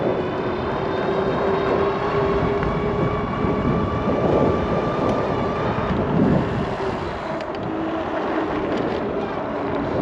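An Engwe Engine Pro 2.0 e-bike runs at full throttle into the wind, with a continuous electric motor whine blended with a loud, steady rush of wind noise throughout and no talking.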